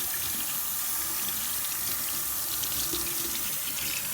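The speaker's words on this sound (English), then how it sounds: "so I'm giving it a rinse." Bok choy is rinsed under a running kitchen tap, a steady close rush of water splashing over the leaves into the sink for several seconds, with no talking.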